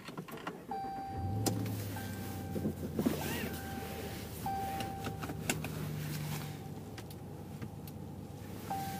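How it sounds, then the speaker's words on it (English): A 2017/2018 Ram 1500 pickup truck drives in cold weather, with a steady low engine and road hum from inside the cab plus short mechanical whirs and clicks near the start. "let's take this Ram 1500 for a spin."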